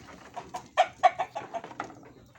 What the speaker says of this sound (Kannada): ಎಲ್ಲ ನಾಟಿ ಕೋಳಿನೇ ಎಲ್ಲ ನಾಟಿ ಕೋಳಿ